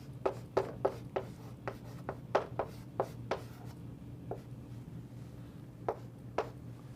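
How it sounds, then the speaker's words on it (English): A pen writing on paper at a desk, with a series of short, scratchy strokes and taps in an uneven rhythm, close and quiet over a low steady hum. "See if I can actually write an I."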